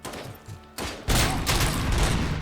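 Gunfire in the RoboCop video game: a burst of loud, dense shots that starts about a second in and keeps going to the end, after softer, broken game noise at the start.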